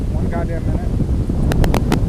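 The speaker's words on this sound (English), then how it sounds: "Hold on, I'm waiting for this gust." A gust of wind roars across the microphone outdoors during plein air pastel painting, a loud continuous low rumble with a brief voice near the start and a few faint clicks toward the end.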